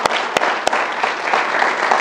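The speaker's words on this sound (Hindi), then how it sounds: "तो कमाल है इजी वेज का प्रोडक्ट, कमाल है हमारे कंपनी का प्रोडक्ट के लिए एक बार जोरदार तालियां" A brief burst of audience applause for a company's product at a bootcamp event, with dense, steady clapping and a few sharp, louder claps standing out, heard up close.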